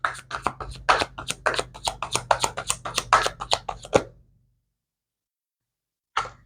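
Tarot cards shuffled by hand in a quick run of crisp riffling flicks and taps that stop abruptly, followed by silence and one last brief rustle.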